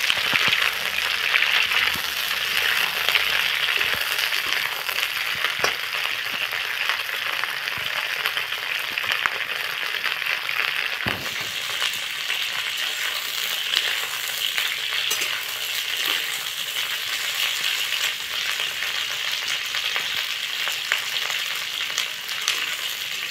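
Cauliflower frying in a pan until lightly browned for an aloo gobhi matar sabzi, a loud continuous hiss of hot oil with occasional faint stirring clicks, steady throughout and close, with no speech.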